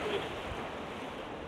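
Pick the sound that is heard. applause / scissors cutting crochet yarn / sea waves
sea waves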